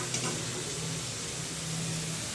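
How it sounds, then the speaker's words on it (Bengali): Masala with chopped tomato and green chili sizzles steadily in a pan as it is sautéed for a Bengali bhetki fish bone curry, a close, even hiss with faint stirring. "ভালো করে মশলাটা কষিয়ে নেব।"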